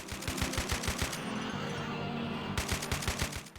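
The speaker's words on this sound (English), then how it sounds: "the assault rifle, thankfully, is strong enough you can just shoot them" Assault rifle fire in Doom: The Golden Souls 2, a steady rhythmic burst of close, punchy shots at an even rate, briefly interrupted mid-clip and then resuming.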